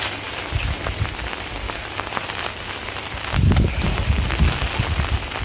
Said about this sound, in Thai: ตอนนี้ฝนเริ่มตกนะ